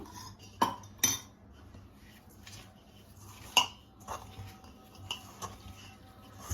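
A spoon stirs ghee into flour for bellam gavvalu, giving scattered clinks and scrapes against a bowl with a few sharper knocks, close and fairly quiet, with no talking.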